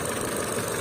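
A 2011 Ford Fiesta with a manual gearbox idles close by, a steady, loud, dense engine rumble with an even mechanical texture and no variation across the short stretch.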